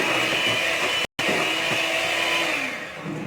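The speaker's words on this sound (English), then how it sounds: "So now you can see I'm giving it another mix." An electric mixer whirs steadily through raw banana cake batter, a loud continuous motor hum with one brief cutout partway, then carrying on alone with no talking.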